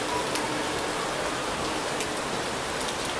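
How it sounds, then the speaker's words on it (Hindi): Heavy rain falls in Delhi as a steady, dense wash of hiss and patter, close and unbroken throughout, with no voices. "मेरे को लग रहा है 1-2 घंटे तक तो रुकेगी नहीं बारिश"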